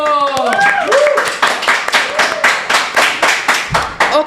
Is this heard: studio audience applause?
yes